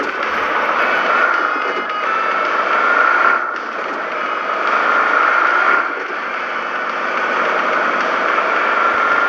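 A vehicle engine in the video game PUBG Mobile drives off, giving a loud, steady mid-pitched drone that swells and dips slightly over the whole stretch, with no talk over it.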